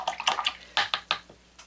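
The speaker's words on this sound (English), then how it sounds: "Put some water in here." Water is poured and splashed into a Zig transparent plastic 12-colour watercolour palette, heard as a quick series of short, close, quiet splashes and trickles.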